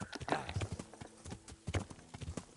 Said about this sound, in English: So just get on your horse.